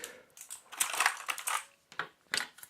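A plastic wrist rest being fitted and snapped onto an EasySMX mechanical gaming keyboard gives scattered close clicks, scrapes and clacks of hard plastic, irregular and fairly quiet.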